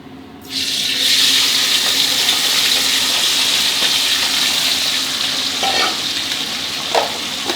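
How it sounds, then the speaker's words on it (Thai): Fish dropped into very hot oil bursts into a loud, sustained deep-fry sizzle that holds steadily, with a couple of faint knocks near the end and no talking. "ปลาครับใส่ลงไปทอดได้เลยระวังน้ำมันกระเด็นนะครับ"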